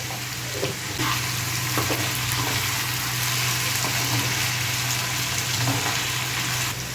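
Potatoes with a pinch of turmeric frying in hot oil on high heat, a steady loud sizzle running unbroken through the whole stretch with a faint low hum beneath and occasional soft stirring knocks.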